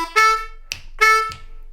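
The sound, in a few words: blues lick played on a D harmonica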